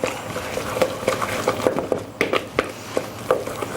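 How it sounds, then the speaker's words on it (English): Utensil scraping and tapping against a bowl while an egg is mixed into a potato and cheese mixture, with irregular clinks and knocks at close range. "So one whole egg in there, pop it straight in. Give it a good mix."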